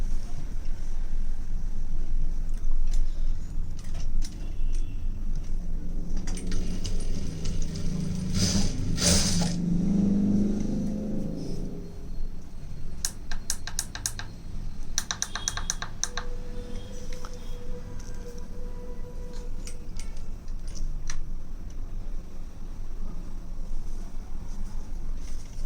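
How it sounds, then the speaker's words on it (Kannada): A sewing machine stitches a simple embroidery design in short bursts of rapid mechanical ticking, with one louder run midway and lighter runs after it, and no voices. "ಈಗ ಸ್ಟಿಚ್ ಹಾಕ್ತೀನಿ."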